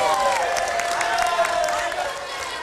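Audience at a regional head candidates' debate applauds steadily, a dense wash of clapping while a voice talks over it near the start, fading slightly at the end.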